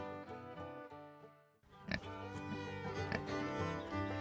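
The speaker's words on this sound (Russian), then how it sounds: "Это свинья. Она хрюкает." Cartoon pig oinking, a domestic farm animal, heard as a short burst of grunts near the middle over a continuous musical background.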